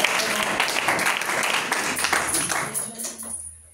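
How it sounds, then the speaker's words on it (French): A church congregation breaks into sustained applause and clapping at a worship service, dense and steady with voices mixed in, fading out near the end. "Je veux qu'on acclame le Seigneur pour sa vie."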